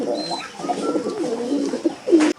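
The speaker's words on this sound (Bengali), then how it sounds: "এইখানে এক জোড়া কবুতর আছে, ডিম দেওয়ার জন্য বসে আছে" A pair of pigeons nesting in a loft coo in soft, rounded, repeated calls close by, with a fuller, louder coo near the end and no talking.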